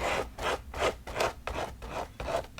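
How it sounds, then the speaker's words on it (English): A small palette knife scrapes a thin dab of Tim Holtz Distress paint across a journal page to build sandy texture, making a close, dry rasping rub repeated in about six quick rhythmic strokes, with no talking. "grabbing a small palette knife tool, I'll just take a teeny little bit of that, and we're just going to scrape."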